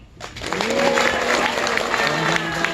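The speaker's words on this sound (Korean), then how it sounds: "이런 박수로 환영과 축하의 뜻을 표하고자 합니다" An audience at a political party launch ceremony breaks into applause that swells quickly and continues as a broad crowd wash, with a voice speaking over it.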